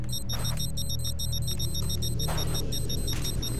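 An artifact detector in the game STALKER: Shadow of Chernobyl emits steady, repeated high electronic beeps over a constant low background hum, with no talk.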